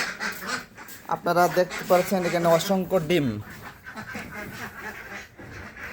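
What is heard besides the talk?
ducks quacking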